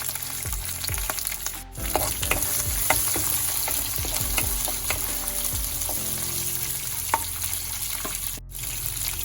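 Cumin and fenugreek seeds sizzling in hot oil in a pan for a vegetable lunch, a steady loud frying crackle with occasional stirring scrapes.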